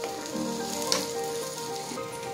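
Steady bubbling sizzle from a pan on the stove, continuous and close, with a faint clink partway through.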